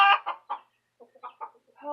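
A mixed chicken flock of Frizzles, Silkies and Easter Eggers with several roosters, giving close, loud bursts of clucking in quick uneven runs, then a short quiet before more clucks and a drawn-out call.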